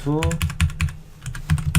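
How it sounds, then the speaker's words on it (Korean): Rapid keystrokes clatter on a computer keyboard while JavaScript calculator code is written, a close, busy burst of clicks with a brief pause midway and faint talk in places. "뭔가 타이핑을 최소화하려고 했는데 엄청 많이 하고 있네요"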